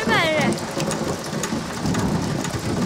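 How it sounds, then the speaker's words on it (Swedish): A thunderstorm pours heavy rain that hisses steadily over a surface, with a low rumble of thunder rolling beneath the downpour throughout. "Åh, vad det är vackert med åskväder."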